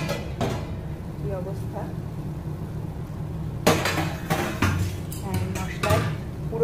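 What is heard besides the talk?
lifting the lid off a cooking pot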